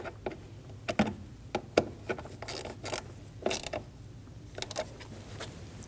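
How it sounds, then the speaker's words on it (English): Bolts are snugged down on a camshaft position sensor of a 2012–2022 Volkswagen Passat 2.5L five-cylinder: close, irregular ratcheting clicks and metallic taps from a hand tool, with brief scraping bursts between them. "Snug the bolts down."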